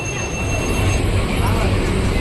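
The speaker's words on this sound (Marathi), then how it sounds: "आता आपण दादर स्टेशनला पोहोचलो आहे" A Mumbai local train runs toward Dadar station, heard from inside the carriage. A loud, steady rumble of wheels and rattling fills the clip without a break.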